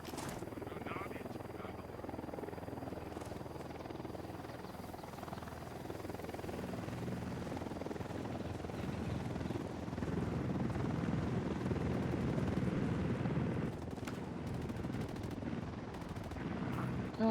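Helicopter in a tactical shooter video game, a steady thrumming rotor drone holding throughout at moderate distance, with scattered gunfire and brief game voices over it.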